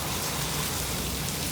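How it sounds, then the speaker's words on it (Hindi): Heavy rain mixed with hail pours down in a mountain area in May, a dense, loud, continuous hiss and patter without any talking. "अब देखो कितनी बारिश हो रही है और ओले भी गिर रहे हैं"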